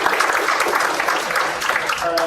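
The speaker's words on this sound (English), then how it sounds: "How about a round of applause for Brendan?" Audience applause at a public scoping meeting in Southold about a proposed North Fork pipeline: dense, steady clapping from a crowd that fills the whole moment at even loudness.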